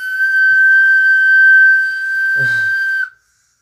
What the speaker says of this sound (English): Is that a rape whistle?